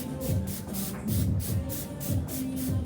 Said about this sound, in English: And then I always like to finish with a texture spray.